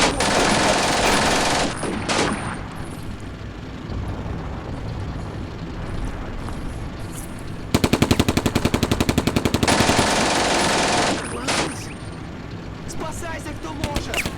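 Gunfire in the wargame Combat Mission Barbarossa to Berlin, Leningrad 1941 campaign: loud sustained machine-gun bursts with rapid rattling volleys and sharp shots, plus a dense bright noise wash, under game voices shouting orders.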